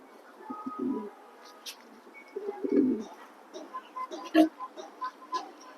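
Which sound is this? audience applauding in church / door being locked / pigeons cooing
pigeons cooing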